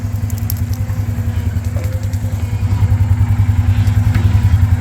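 A farm excavator's diesel engine runs steadily with a loud, pulsing low rumble and some faint clatter, continuous and close by with no talk.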